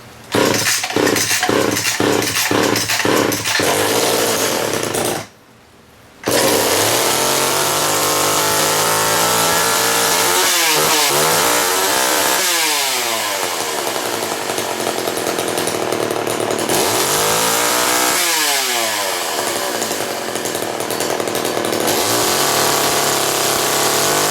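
A grimy STIHL chainsaw cold-starts and runs loud and close, its two-stroke engine idling in a steady buzz, briefly cutting out, then revving up and down in repeated rising and falling surges.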